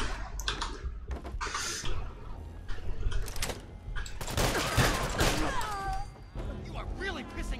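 Gunshots hitting a corpse in Fallout 4: rapid, close bursts of gunfire and impacts, mixed with a voice speaking over the action.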